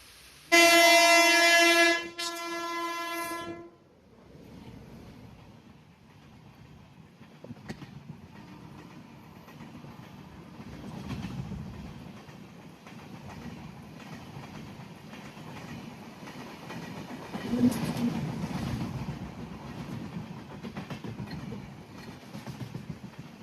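The Madgaon Hapa Express on the Konkan Railway sounds a long loud horn, then rumbles past with steady wheel clatter and wagon noise, swelling again as the coaches roll by.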